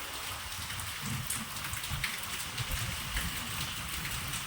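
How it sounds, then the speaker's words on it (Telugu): Steady rain falls outdoors in a village, a dense even hiss with soft low patters of drops striking ground and surfaces, continuous throughout with no voices. "కానీ అసలు ఇప్పటికే వర్షం చక్కగా బాగానే పడుతుందండి"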